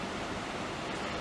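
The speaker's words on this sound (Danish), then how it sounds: "Man kan høre vandet, ja." Sea waves wash onto the shore in Gran Canaria, a dense, steady roar of surf with no voices.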